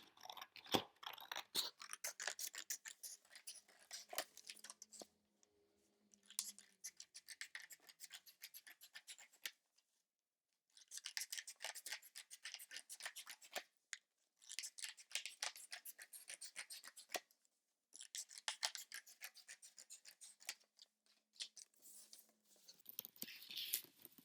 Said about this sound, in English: go ahead and cut a few strips like that